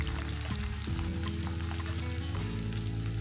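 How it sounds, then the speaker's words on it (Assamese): Cloves, cardamom, cinnamon and onion hit hot oil for a chicken dry fry. A loud, close, continuous sizzle and crackle runs through the whole short moment with no speech. "তেলখিনি ভালদৰে গৰম হোৱাত ইয়াতে লং, ইলাচি, দালচেনিখিনি দি দিছোঁ আৰু লগতে পিঁয়াজখিনিও দি দিছোঁ"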